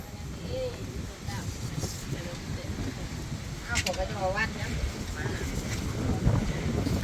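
Strong storm wind blows outdoors in a rural vegetable garden, a steady roaring rush with gusts buffeting the microphone while a person talks over it.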